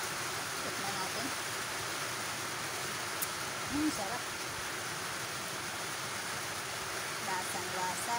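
Heavy rain falling outside a kitchen while eggplant and papaya simmer in coconut milk, a steady broadband hiss filling the whole clip, with a brief spoken word over it.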